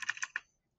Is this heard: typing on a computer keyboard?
yes